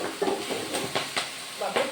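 Ghor vegetable cooks in a pan with tur dal, giving a soft, faint sizzle punctuated by several sharp clicks and scrapes of a spoon stirring against the pan.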